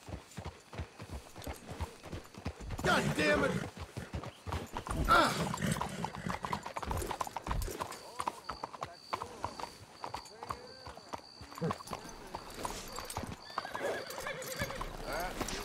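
Horses in the video game Red Dead Redemption 2 clip-clop along at close range with scattered neighs, mixed with gunfire-like bangs and shouting voices throughout.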